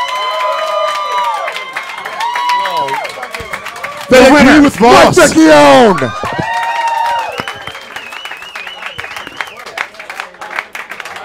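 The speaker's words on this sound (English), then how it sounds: "clap your hands" A comedy roast battle crowd claps and cheers loudly in a short burst voting for a comedian, between stretches of a host speaking over the room.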